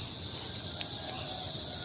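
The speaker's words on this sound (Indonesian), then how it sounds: "Jangkrik." A cricket chirps steadily and continuously at night, a high shrill trill over a constant hiss of background noise, with no voices.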